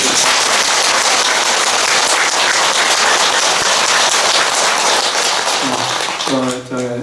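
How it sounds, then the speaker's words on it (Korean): An assembly applauds the monks at a Buddhist first-day-of-the-month dharma service in a temple, a loud sustained patter of many hands that tapers near the end as a voice briefly begins. "대중 스님들을 위해서 박수 한번 보내드리고"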